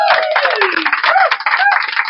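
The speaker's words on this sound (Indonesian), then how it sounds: "Tepuk tangan dulu untuk bapakku" Brief clapping from an audience for the speaker's father, short and dense, mixed with overlapping voices and cheering.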